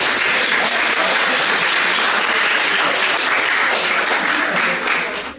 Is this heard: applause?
yes